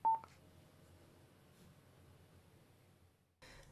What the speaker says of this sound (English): Press the plus button for 2 seconds or until you hear the second beep